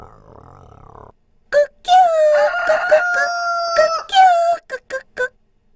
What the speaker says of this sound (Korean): 닭은 새벽마다 큰 소리로 울며 사람들을 깨웠대